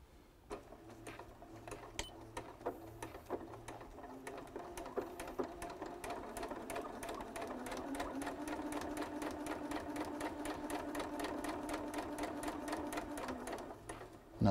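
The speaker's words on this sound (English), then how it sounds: "take your material and sew another line parallel to it" Sewing machine stitching a line parallel to an earlier seam: a quiet, fast, even mechanical ticking that speeds into a steady run, heard alone.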